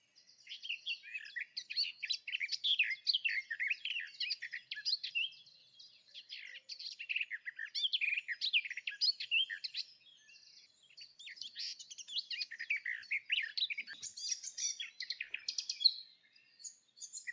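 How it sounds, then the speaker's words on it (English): A warbler sings scratchy, rushed warbling phrases, each several seconds long with brief pauses between, clear and moderately close against a silent background. "Their warbling song tends to include scratchy notes and can feel quite rushed"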